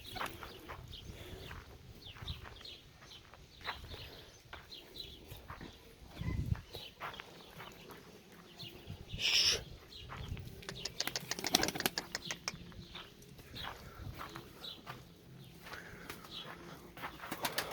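Pet pigeons in a loft give soft, scattered cooing over a low, steady background, with a few brief louder rustles and bumps and no talking.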